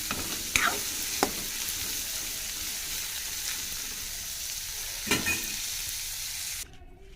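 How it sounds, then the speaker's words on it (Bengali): Fried potatoes and chickpeas in a pan (kadai) sizzle steadily while a spoon stirs them, with a few sharp scraping clinks against the pan before the frying noise cuts off at the end. "এবার কড়াইটা দিয়ে ভালো করে নেড়ে চেড়ে নেব।"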